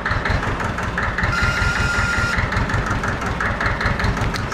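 Farm engine running near full throttle at about 1,500 rpm, a loud, close, steady pulsing drone with a rapid regular throb and no talk over it.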